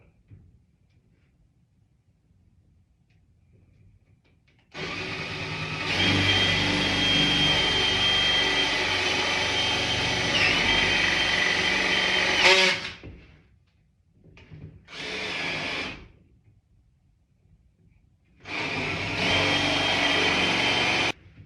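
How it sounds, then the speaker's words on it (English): A drill bores holes through a metal part in a shop, running in a long loud whine of about eight seconds, then a short burst, a pause, and another sustained run, with quiet gaps between. "Alright, got those drilled."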